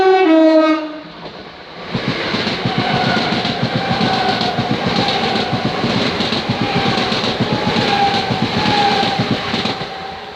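A train at Hitchin station on the East Coast Main Line sounds a loud two-tone horn, then rumbles past with steady rhythmic clickety-clack of wheels over rail joints, close and continuous, with no voices.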